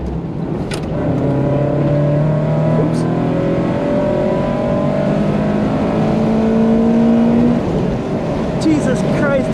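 Car engine on a track day lap at Etown, heard from inside: a loud, steady drone whose pitch climbs and falls through gear changes, with a voice talking over it.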